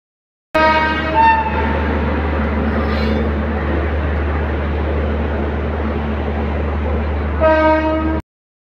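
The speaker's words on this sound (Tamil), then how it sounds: "இன்றைக்கி நம்மளை சென்னை சென்ட்ரல்லேருந்து கோயம்புத்தூர் ஜங்ஷன் வர ஃபுல் பண்ணக்கூடிய லோக்கோ என்னென்னா WAP7 ராயபுரம்" The Cheran Express, hauled by a WAP7 electric locomotive on the Chennai Central to Coimbatore run, sounds a long, loud, steady horn blast, with a brief second horn call at the end over constant rumble.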